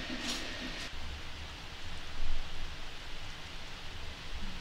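Steady rain falls in The Sims 4 life-simulation game, a soft, even hiss that stays at a moderate level throughout, with a brief brighter patch near the start and no voices.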